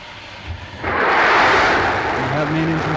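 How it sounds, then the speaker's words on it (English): Space Shuttle Endeavour's main engines igniting at launch, a quiet low rumble that abruptly swells into a loud, steady broadband roar, with a low tonal hum rising near the end. "We have main engine start."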